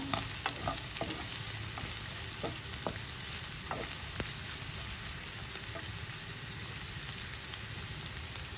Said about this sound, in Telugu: తరిగిన ఉల్లిపాయలు వేసుకోవాలి. కొంచెం వేగనివ్వాలా.